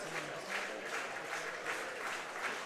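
Baseball fans crowded under a grandstand during rain at an IBL game between the Kitchener Panthers and London Majors, clapping and cheering in a steady roar with rhythmic swells of applause.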